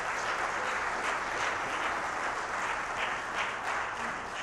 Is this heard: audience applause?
yes